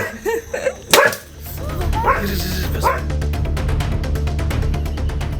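Several dogs chasing an elephant out of a village bark and yip in sharp, close bursts at first, then a rapid train of barks continues over a steady rumble of background noise.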